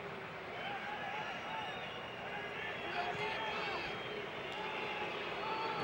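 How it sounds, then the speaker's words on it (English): A restless crowd at a USA versus Mexico international football friendly in a stadium, a dense continuous babble of distant voices and scattered whistles beneath close commentary. "This is the moment you can hear the crowd getting a little bit restless. You know, those whistles are a good sign."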